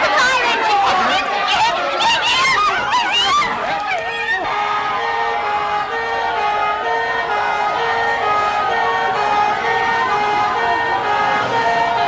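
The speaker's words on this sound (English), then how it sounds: "Listen, it's the fire engine." Fire engine siren approaching, a wailing, swooping tone under overlapping voices at first, then a steadier siren tone continuing as the talk drops away.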